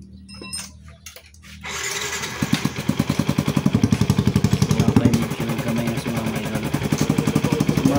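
A motorcycle fitted with a new 32mm Puma Racing throttle body and a big-elbow exhaust starts up after some clicks and settles into a loud, close, rapid pulsing idle with a slight, uneven throb.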